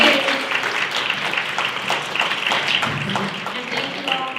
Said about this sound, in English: let's applaud the ladies for sharing